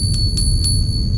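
Small bells on a canister set are struck by little hammers, giving three quick bright metallic tings with a sustained ringing tone over a low rumble.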